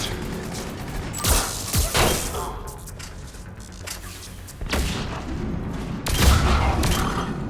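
Gunfire in Mass Effect 3 hits an enemy turret and shield pylon: repeated bursts of shots and heavy thumping booms over a steady game background, with louder impacts near the end.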